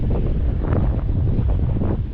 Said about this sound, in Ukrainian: Вітер загинає кінчики, звісно.